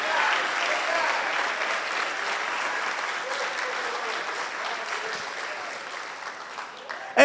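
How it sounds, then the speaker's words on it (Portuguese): Church congregation applauding steadily during a worship service, a dense, even wash of clapping that holds for several seconds, then thins slightly toward the end. "pode aplaudir a mais"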